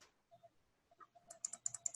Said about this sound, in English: I'm going to type just very quickly